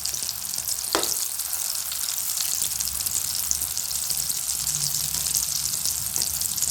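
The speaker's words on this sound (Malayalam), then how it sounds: "ഇനി നമുക്ക് അങ്ങോട്ടും ഇങ്ങോട്ടൊക്കെ ഇട്ടിട്ട് ഒന്ന് വേഗം ഒന്ന് ഫ്രൈ ചെയ്ത് എടുക്കാം." Tapioca (kappa) pieces frying in hot oil in a pan, giving a steady broadband sizzle that holds through the whole stretch with one brief sharp tap of utensil or pan early on and no talking.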